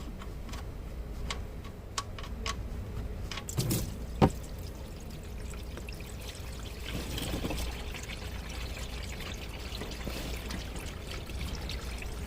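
Engine oil draining from a 2010 BMW 550i GT during an oil change, a steady soft pour and trickle with scattered ticks and a few brief clanks of tools nearby.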